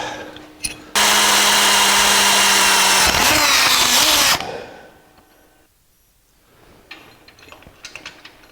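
A power drill whines loudly for a few seconds while drilling a punch-marked hole during exhaust work on a 1984 Jeep CJ7, its pitch shifting as it bites, then stops, leaving quiet shop noise and small clicks.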